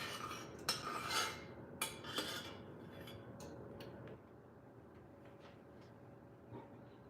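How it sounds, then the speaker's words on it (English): Peach slurry stirred in a pan for a peach cobbler, a few sharp utensil clinks and scrapes against the pan early on, then fainter intermittent taps over a low steady background hum. "stir that slurry"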